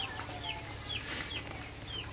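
A flock of heavy broiler chickens clucks and murmurs nonstop in a farm shed, several birds calling at once with occasional sharper clucks rising over the steady background.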